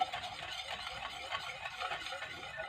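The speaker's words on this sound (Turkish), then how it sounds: "Evet şu şekilde iyice çırpıyoruz." A whisk beats a cocoa mixture in a bowl, giving rapid, steady scraping and clinking strokes that continue without a break, close up and moderately loud.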